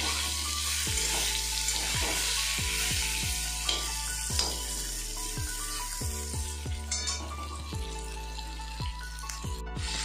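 Eggplant frying in oil in a wok, a steady loud sizzle with occasional clinks and scraping of a utensil stirring, no talking.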